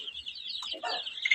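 Tiny chicks peep in a thin, continuous high chatter, with a brief low clucking from the flock breaking in midway, all heard close up.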